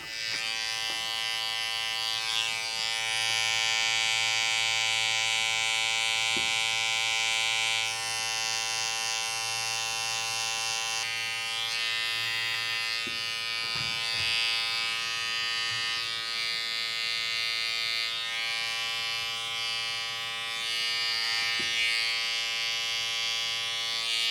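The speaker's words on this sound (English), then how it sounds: "use my clipper over comb with the little trimmers" Electric hair clippers and small trimmers cut short men's hair over a comb in a steady, close, continuous buzz that shifts slightly in pitch, with faint clicks throughout.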